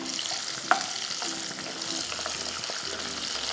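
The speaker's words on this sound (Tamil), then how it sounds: "ஆனியன் நல்லா ஃப்ரை ஆகிட்டுருக்கு" Onions frying in a pan with curry leaves and garlic for a prawn and drumstick seafood gravy, a continuous close sizzle with soft stirring scrapes and one brief sharp clink, no speech.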